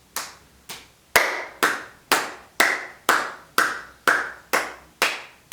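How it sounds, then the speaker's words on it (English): Hand clapping during a yoga wake-up exercise, about a dozen sharp, evenly spaced claps close by, with no talk. "Clapping"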